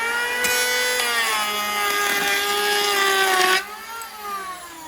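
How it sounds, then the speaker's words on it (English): A router cuts across a rough, chainsaw-cut chunk of oak, a high whining pass with strong harmonic tones lasting about three seconds before the cut ends and the motor spins down, close and loud with no talk. "using a router for his very first time"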